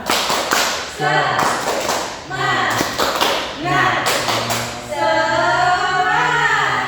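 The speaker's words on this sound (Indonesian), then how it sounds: "kita tepuk semangat dulu ya" A fifth-grade class does a rhythmic cheer clap in a classroom, sharp patterned claps in quick groups mixed with loud children's voices chanting along, the claps and voices overlapping throughout.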